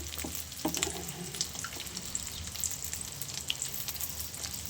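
Eggs frying in a pan for a pepper roast give a soft, continuous crackling sizzle with faint pops, close and quiet, with no voices.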